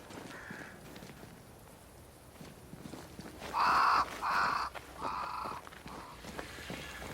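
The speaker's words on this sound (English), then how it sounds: "Crows. They flock to that great tree up there." Crows caw in the video game Banishers: Ghosts of New Eden, three or four loud, harsh calls in quick succession near a great tree, rising over quiet ambience with faint footsteps.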